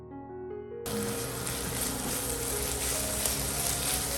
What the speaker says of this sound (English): Stir-fry quickly until the beef is no longer pink and well combined with the vegetables